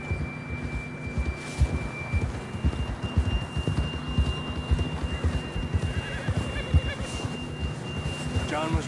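A horse in Red Dead Redemption 2 whinnies over steady clip-clopping hooves and a thin electronic tone, with voices talking throughout.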